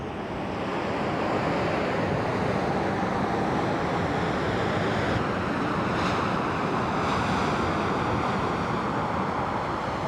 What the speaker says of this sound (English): A strong cold front in late March covers the entire mountain with a blazing snowstorm.